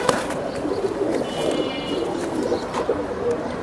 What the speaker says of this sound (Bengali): দুইটা সাপচিলা মাদি এই যে কবুতর